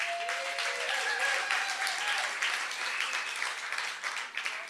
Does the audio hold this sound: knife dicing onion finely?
no